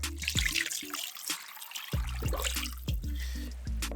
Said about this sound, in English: I cover it up with cold water.